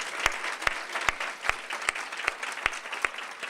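Audience clapping for cabinet members standing at a women's excellence awards ceremony, a steady wash of many hands with a few sharp near claps standing out at a regular beat.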